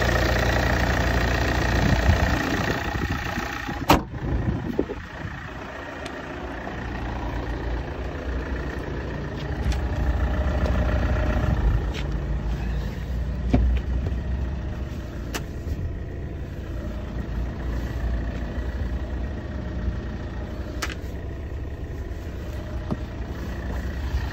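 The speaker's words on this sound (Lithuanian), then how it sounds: "Variklis dirba gerai." Volvo V90 two-litre 140 kW diesel engine idling steadily, a continuous low rumble with a faint knocking texture, heard close up with a few brief clicks and no talk.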